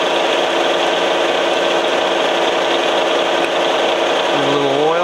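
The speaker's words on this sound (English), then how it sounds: "Anytime you're drilling a hole in hard steel, you wanna slow it down." A drill bores slowly through the hard steel of a pistol slide on a machining job, giving a steady, loud, grinding whir that runs continuously, with no talking.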